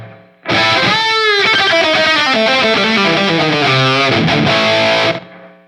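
Loud distorted electric guitar through a Bogner Ecstasy red channel preset on a Line 6 POD GO, delay off, playing sustained chords and notes washed in reverb with a lingering tail, no echo repeats, for about five seconds.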